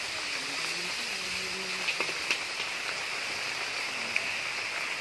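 Heavy rain pours steadily onto a surface outdoors, a dense continuous hiss with scattered louder drops and patters throughout, no voices.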